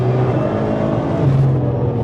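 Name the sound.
1000hp Nissan GTR engine revving on track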